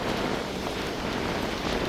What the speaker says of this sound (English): look at this rough sea.